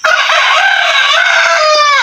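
Loud, close native chickens, one drawn-out crow dominating with hens clucking around it, filling the whole moment.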